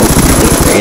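Rapid, loud bursts of automatic fire from a light machine gun in a video game, hammering in a steady rhythm close up for under a second.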